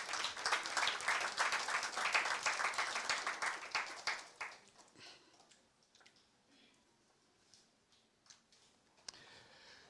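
A church congregation applauds at a French-language service: dense, lively clapping from many hands for several seconds, then fading into scattered claps and quiet room noise.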